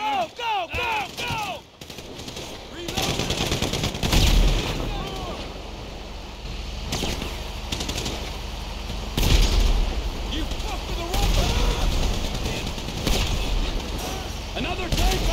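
A GTA 5 shootout during the Paleto Score heist erupts in loud, sustained automatic gunfire with heavy booms and pops, preceded by shouted voices and carrying on with ongoing chatter over the battle.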